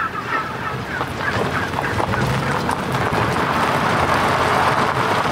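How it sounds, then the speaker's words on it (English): A large flock of escaped turkeys at a farm, having broken through an electric fence, gobbling and calling together in a dense, continuous clamor that stays loud throughout. "The turkeys broke down the electric fence."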